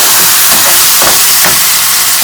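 Capsicum, onion and red chili paste with ginger and garlic sautéing in oil, a loud, steady, close sizzle and steamy hiss with a few soft stirring pulses, with no voices.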